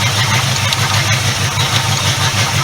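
A cold 1976 Ford LTD V8 idles close by with a steady, rhythmic low rumble and an even pulse, with no voices over it.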